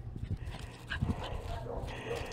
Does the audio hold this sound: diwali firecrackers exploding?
no